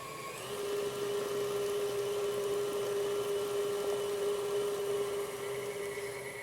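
Electric stand mixer with a paddle attachment beating cake batter in a bowl, a steady close motor whine running without pause, starting half a second in and holding even to the end.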